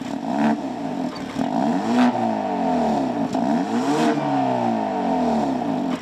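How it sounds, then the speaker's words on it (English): A turbocharged 2.0-liter four-cylinder in a 2024 Hyundai Elantra N with a variable-valve exhaust revs repeatedly, pitch sweeping up and down in loud close bursts with a raspy, continuous engine drone throughout. "I believe this is the engine Hyundai sampled for the Ioniq 5N's performance sounds."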